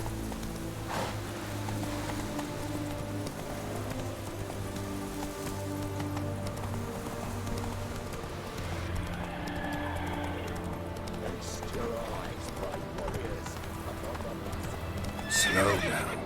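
Roach, Geralt's horse in The Witcher 3, gallops with steady rapid hoofbeats and gives a whinny, underscored by game music and light rain ambience, with a voice speaking over it.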